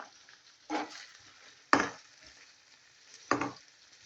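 Meat for a qiymali plov browning in a hot pan, with three short separate bursts of sizzling and stirring scrapes over a quiet background.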